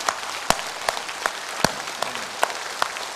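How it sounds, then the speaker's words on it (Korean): A church congregation applauds during a worship service, giving a steady patter of clapping from many hands with a few sharper claps standing out; moderately near and without speech. "뜨겁게 박수로 화답합시다"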